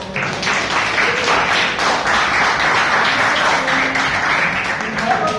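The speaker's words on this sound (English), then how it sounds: "Please give him a round of applause." An audience at a Toastmasters meeting gives a round of applause, steady dense clapping from many hands sustained for several seconds, loud and close, with some voices mixed in.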